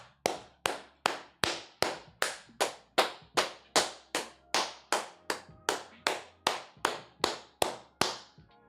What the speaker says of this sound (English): I'm gonna clap it up, y'all.